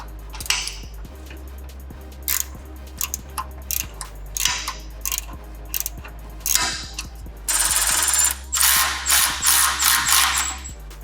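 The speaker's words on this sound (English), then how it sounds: "go ahead and removing the bolts that are holding the brake lines" Ratchet and hand tools work on the bolts holding the brake lines of a Toyota FJ62 Land Cruiser, with repeated clicking bursts and metallic ticks, then a longer, louder stretch of rapid ratcheting near the end.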